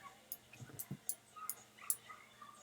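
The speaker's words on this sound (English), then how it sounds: "Hey dog, back off please." A dog whimpers and yips in a series of short, thin cries and squeaks at low level, scattered across a couple of seconds in a quiet room.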